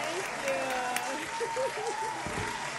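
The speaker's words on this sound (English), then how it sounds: "round of applause" Studio audience applause for a guest on a live talk show, a moderate wash of clapping while a voice speaks over it with rising, drawn-out tones.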